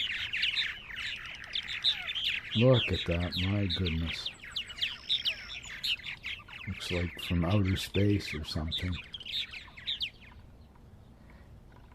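Purple martins chirp and chatter in a dense, continuous chorus at a farm colony, close and lively, while someone speaks over the birds in two short bursts.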